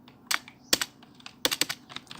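Keystrokes on a computer keyboard as an email address is typed, sparse clicks arriving singly and in quick clusters, close and fairly quiet in an otherwise silent room.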